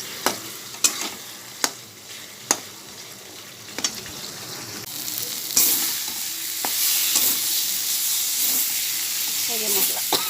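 Spice masala and potatoes fry in a pan for a fish curry with pointed gourd and okra, several sharp spoon knocks first, then a louder sizzling hiss with stirring scrapes, all close and unvoiced.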